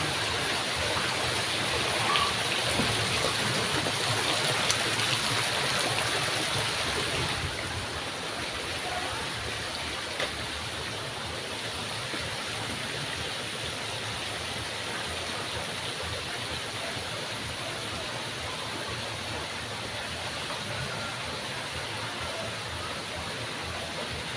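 Water pours out of a water feature at the Villa Alfredo's resort, a loud steady rushing that eases slightly after a few seconds and then flows on evenly.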